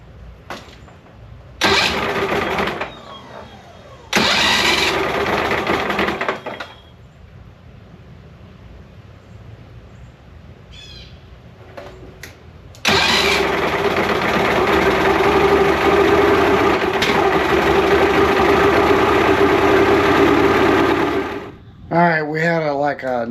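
A Mercury outboard engine with an intermittent spark fault cranks in two short loud bursts, then catches and runs steadily for about eight seconds before cutting out, with brief voices in between.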